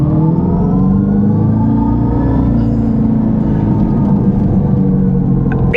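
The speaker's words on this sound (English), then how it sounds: "let's put it in we put it in the loud mode. There we go. All right, let's just give it a little launch." A car launches hard with its exhaust in loud mode, a deep continuous engine roar rising in pitch as it accelerates, loud and close throughout with no talking.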